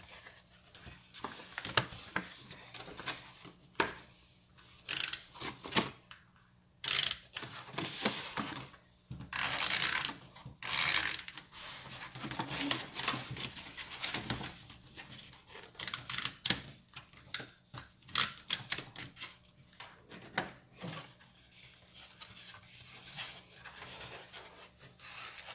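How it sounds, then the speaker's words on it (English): Paper craft tape being pulled and pressed onto card stock, giving scattered rubbing, crinkling and tearing noises with a few louder bursts, close up and with no talking. "And now I will tape this side as well."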